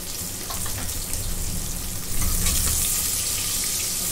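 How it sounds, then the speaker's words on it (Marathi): Chopped onion frying in a pan for egg biryani, a continuous crackling sizzle that grows slightly louder partway through. "कांदा चांगला मी भाजून घेते"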